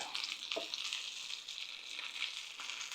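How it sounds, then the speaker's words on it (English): Sausages sizzling in a frying pan, a continuous soft hiss with small pops, steady and moderately quiet throughout. "Sausages are almost done by the looks of it."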